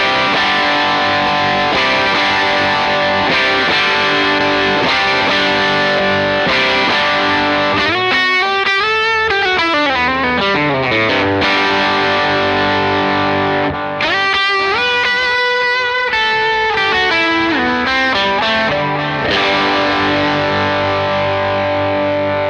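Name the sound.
bass guitar through a distortion pedal clone on Line 6 Proxy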